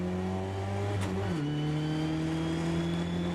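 A race car at the Spa circuit shifts into first and accelerates away, its engine note dropping then climbing steadily in pitch, heard close up from inside with a brief gear-change break.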